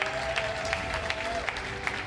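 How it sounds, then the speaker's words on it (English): Crowd applause at an NHL 23 esports world championship European final in Göteborg, Sweden, a moderate wash of clapping with a few sharper claps and cheers, a faint tone running beneath. "Everybody give this man a round of applause."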